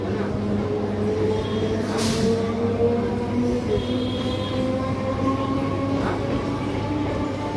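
A Howrah–Bardhaman local train rolls along with a steady rumbling drone and rail clatter, heard from aboard, with a brief squeal and a faint horn-like tone.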